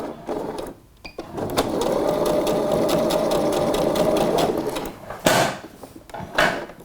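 A sewing machine backstitches at the dip of a scalloped seam on the shoulder line, whirring steadily for about three seconds between short stop-start bursts and mechanical clicks, close and clear with no talking.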